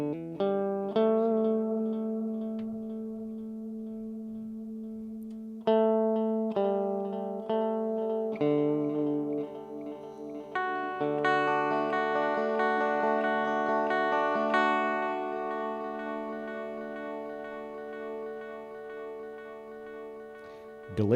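Sustained guitar-like notes and chords played through the delay effect of a Phenyx Pro PTL-600 six-channel mixing board's DSP, each attack followed by repeating, fading echoes that smear into a layered wash.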